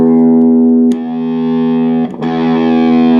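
A sustained, heavily fuzzed electric guitar chord through a cheap Amazon fuzz pedal rings out with a buzzy, thin distorted tone, briefly interrupted by two quick re-strikes.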